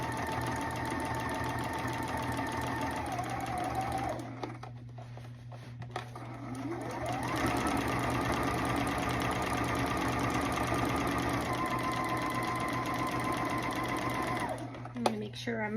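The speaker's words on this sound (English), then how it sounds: "Just stitching the back yoke onto the back at the traditional 5/8 of an inch seam allowance." A Juki HZL-F600 sewing machine runs nearly continuously, stitching the back yoke of a denim jacket at a 5/8-inch seam allowance, a steady close hum and rapid needle rattle that briefly slows, with someone talking over it.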